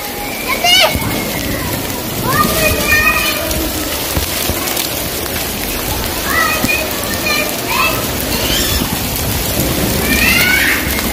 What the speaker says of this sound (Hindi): बहुत अच्छी बारिश हो रही है